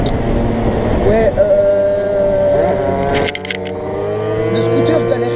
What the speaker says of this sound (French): le scooter galère énormément à monter, c'est abusé.